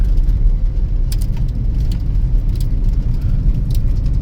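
A car driving on a plowed, snowy road, heard from inside as a loud steady low engine and road rumble with faint higher rattles, no talk.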